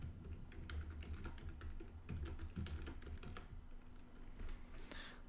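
A password is typed on a computer keyboard, a quick, close run of light, irregular key clicks over a quiet room.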